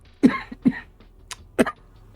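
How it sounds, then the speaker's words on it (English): A person coughs several times in quick, close bursts, with short pauses between. "I just have like a cough tonight."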